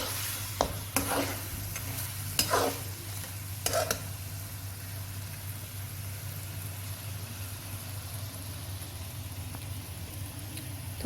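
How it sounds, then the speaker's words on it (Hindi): Marinade for mutton with white vinegar is mixed by hand or spoon: a few sharp knocks and wet stirring sounds early on, then a quieter steady hum for the rest. "सभी इंग्रेडिएंट्स को हम अच्छे से मिक्स करेंगे।"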